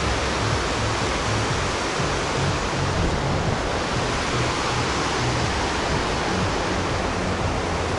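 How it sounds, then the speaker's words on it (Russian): The Almatinka river rushes past the Medeu complex in the Almaty mountains, a loud, steady broadband roar of flowing water filling the whole stretch without pause and with no voices. "Тут еще и река какая-то течет."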